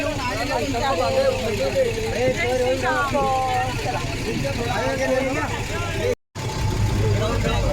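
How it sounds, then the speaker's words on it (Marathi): An auto rickshaw's engine hums low and steady throughout a ride, mostly under continuous nearby talking. "आम्ही ॲटोत बसलोय"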